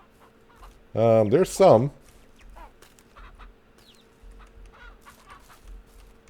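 Chickens in Ranch Simulator let out a loud burst of squawking clucks up close, then softer scattered clucks and farmyard noise continue, with a person speaking briefly.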